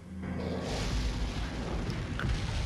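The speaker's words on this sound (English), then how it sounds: "I assume you would hear exploding cannons and catapults." Cannon and catapult explosions roll through a medieval castle area in the video game Resident Evil 4, a dense, sustained booming rumble that swells after a quieter start.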